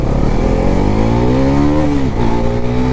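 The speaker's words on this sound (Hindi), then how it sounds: "वार्म अप करना ज़रूरी है बाइक्स को, इसीलिए ये चेक करो" Bajaj NS400 motorcycle fitted with an SC Project exhaust revving loudly up close during warm-up, a continuous throaty engine drone that climbs and dips in pitch across the revs.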